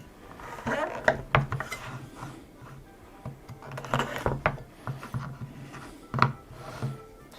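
A knife slices through a hard wedge of caciocavallo cheese, giving several sharp, close cutting clicks and scrapes at uneven intervals with quieter handling noise between them.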